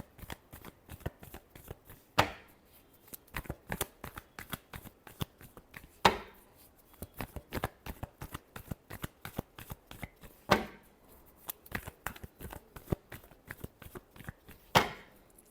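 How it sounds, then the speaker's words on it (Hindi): Tarot cards being shuffled by hand, a steady run of quick close riffling flicks broken every few seconds by a sharper louder riffle or snap of the deck, no talk. "last shuffle"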